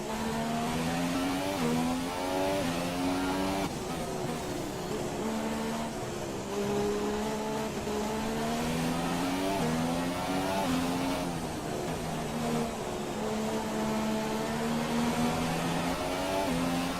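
Formula 1 race car engine in the F1 2017 racing game at the Hungaroring, a steady loud high-revving whine with rising pitch sweeps through the gears and dips on shifts, running continuously alone.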